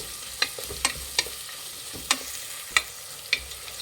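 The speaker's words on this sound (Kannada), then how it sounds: "ಈರುಳ್ಳಿ ಹಾಕೊತಾ ಇದ್ದೀನಿ ಮಿಕ್ಸ್ ಮಾಡಿ ಈರುಳ್ಳಿ ಒಂದು ಸ್ವಲ್ಪ ಫ್ರೈ ಆಗಬೇಕು" Finely chopped onions sizzle in hot oil for a mushroom biryani, with a steady fry hiss broken by about seven sharp scraping stirs of a spoon against the pan.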